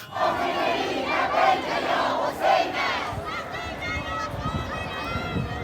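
A large crowd in Mashhad, Iran, chants slogans such as "God is great" in unison while waiting for coffins, many voices shouting together in a rhythmic, echoing roar that carries on steadily.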